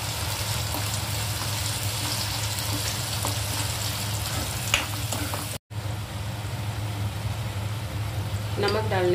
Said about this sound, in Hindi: अब यहाँ पे मैं टमाटर और प्याज का पेस्ट डाल दे रही हूँ। इसे कुछ देर के लिए मैं चलाती हूँ।